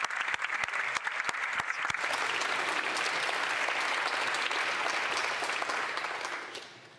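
Members in the House of Commons chamber break into applause, a few sharp individual claps first, then dense, even clapping that holds for several seconds before fading out at the end.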